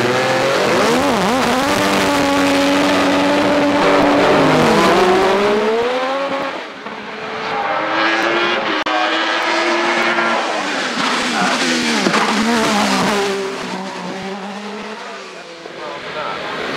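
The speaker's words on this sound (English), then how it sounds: "he'll be first away in the Opel V6-powered Gould" An Opel V6-powered Gould GR55 race car launches up the Shelsley Walsh hillclimb on ultra-soft Avon front tyres, engine screaming through rising and falling revs with tyre squeal, loud and sustained, while a commentator talks over it.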